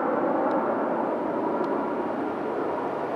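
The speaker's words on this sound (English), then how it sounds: "Is that President Trump's plane?" An airplane passes overhead, its engines a steady, fairly loud broadband roar heard alone and holding evenly throughout.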